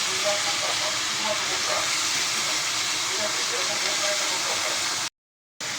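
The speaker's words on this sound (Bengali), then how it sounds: "এই তো এখন আমি সবগুলো আলু দিয়ে দিচ্ছি এখানে।" Potatoes tipped into a pan of oil where fish has just been cooked, giving a loud, steady, broadband sizzling hiss that runs continuously before a brief cut to silence near the end.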